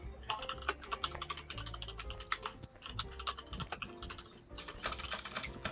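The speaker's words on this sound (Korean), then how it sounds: "딴짓하지 말고 네 타자 소리 다 들린다" Rapid keystrokes on a computer keyboard clatter in an irregular, busy stream from a player during a Human Fall Flat session, close and fairly loud, with brief pauses between bursts and no voices.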